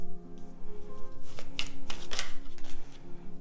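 A deck of tarot cards is shuffled up close, giving a run of papery riffles and flicks with a couple of sharper snaps.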